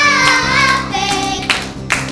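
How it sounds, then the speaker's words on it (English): Rhythmic hand claps mixed into an upbeat children's praise and worship song, sounding alongside sung vocals and music throughout. "Now clapping, clapping, clapping"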